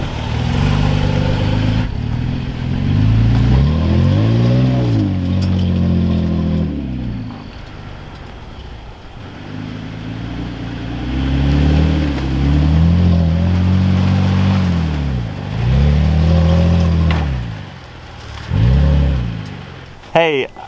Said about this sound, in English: we found one last little puddle-ish kind of muddy dirt thing that we'll go through